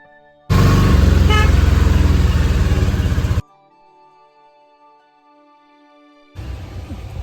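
Loud passing vehicle noise with a sustained car horn blast for about three seconds near an autorickshaw ride on a road, followed by quiet and then renewed engine and traffic sound.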